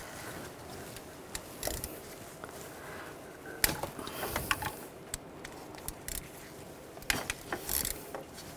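A 10mm socket ratchet loosens two bolts on a 2004-2009 Audi A4 Quattro 2.0L I4, with quiet irregular bursts of sharp clicks and metallic ticks against a low hum.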